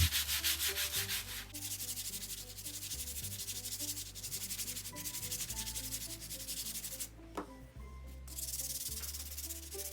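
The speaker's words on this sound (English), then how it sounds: "So a few test bits and then a little bit of hand sanding." Hardwood for a homemade woodworking mallet is hand sanded with fine grit up to about 240, making steady rhythmic scratchy strokes, close and continuous, with a brief pause near the end before the rubbing resumes.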